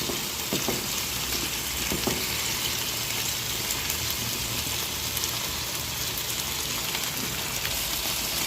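Chicken thighs fry steadily in a pan with a dense, even sizzle. It carries on unbroken throughout, with a few faint clicks and no voices.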